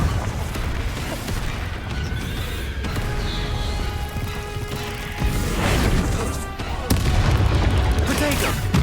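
Confringo blasting spells in Hogwarts Legacy, loud bursts and crashes amid dense combat noise, with several impacts and booms across the stretch.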